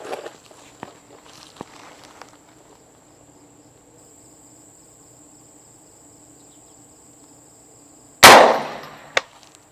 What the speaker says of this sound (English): going to fire a shot